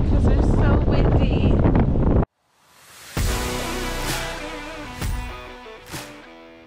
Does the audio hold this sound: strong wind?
yes